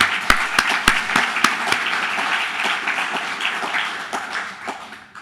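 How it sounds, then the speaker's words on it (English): Applause at a scientific conference town hall, opening with several sharp, distinct claps before swelling into a fuller round of audience clapping that gradually fades. "let's practice our applause"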